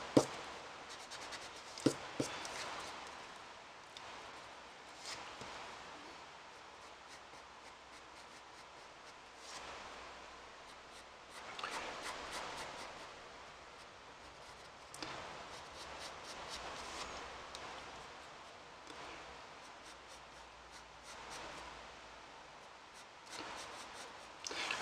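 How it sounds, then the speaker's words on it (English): A pencil eraser rubs out an ear in a manga drawing of a male hairstyle. It makes faint, close scrubbing strokes in repeated bursts against quiet paper rustle, with no voices. "let's go ahead and erase that ear because we don't really need it."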